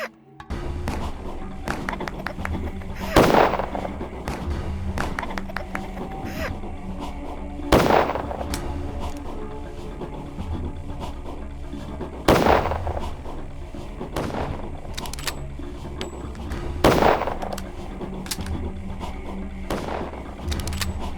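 Four sharp gunshots ring out from the video game Pathologic, spaced about four to five seconds apart over a steady droning game soundscape, each one loud and close with a brief ringing tail.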